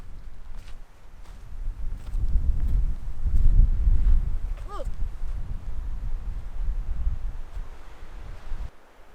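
Strong wind buffets the microphone in heavy, low gusts that swell and fade, with a brief faint higher sound partway through.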